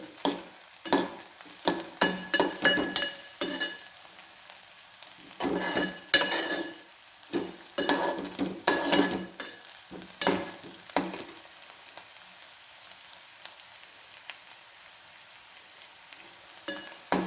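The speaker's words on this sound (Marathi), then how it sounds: "कांदा, कढीपत्ता आणि हिरवी मिरची टाकले." Onion, curry leaves and green chili fry in a pan, with bursts of stirring and clinking scrapes against a soft, fairly quiet sizzle that settles into a calmer hiss toward the end.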